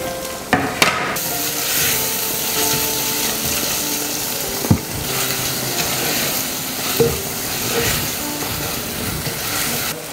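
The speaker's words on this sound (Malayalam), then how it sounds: "ഇനി നമുക്കിതിലേക്ക് തക്കാളി കട്ട് ചെയ്ത് ഇട്ട് കൊടുക്കാം." Cut tomatoes drop into fried shallots and onion for a sardine curry, setting off a loud, steady sizzle with sharp knocks and clatters of a utensil against the pan near the start and middle.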